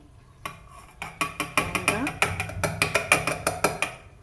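Spices for masala are pounded by hand in a kitchen, a close series of sharp rhythmic knocks that start sparse and settle into a steady, quickening beat.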